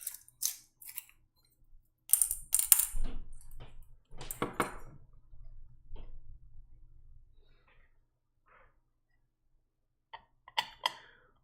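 Small metal screws clink and rattle in brief bursts during a mechanical keyboard build, close and fairly quiet, with pauses of near silence between the handling sounds.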